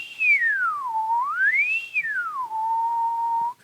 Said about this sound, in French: Lorsqu'on siffle, par exemple,